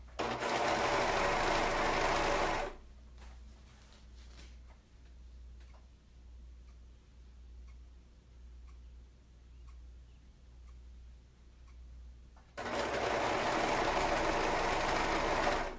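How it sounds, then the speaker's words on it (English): Serger sewing machine stitching fabric for a maxi skirt, a loud rapid mechanical whir at the start and end with a quiet pause of faint ticks in between. "let's go back to serging some more"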